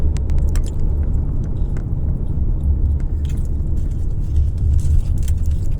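Road traffic on EDSA in Pasay in the evening: a dense, steady rumble of cars and engines, loud and continuous throughout, with no one talking.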